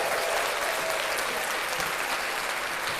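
A crowd applauds for a daughter's test score, a dense, steady roar of clapping that holds evenly at full volume throughout.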